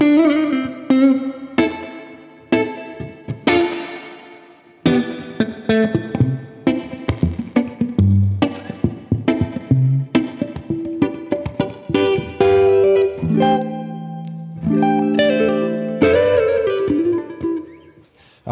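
A Fender Jazzmaster electric guitar plays jazzy chords and single notes through a Strymon Iridium amp modeler pedal at the end of the chain, with clean, slightly reverberant tone, alone and close.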